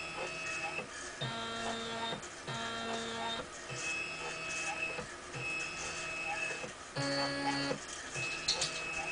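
Stepper motors on a homemade Arduino Mega 3D printer sing through a test print, giving sustained whining tones that change pitch every second or so between moves, over a steady background hum.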